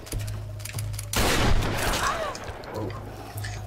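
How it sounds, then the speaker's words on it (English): A burst of gunfire from Lara's weapons in the 2013 Tomb Raider game, with a dense, loud volley of shots crackling for about half a second amid game sounds and a low steady hum. "I was trying to dodge, but I was also still kind of shooting."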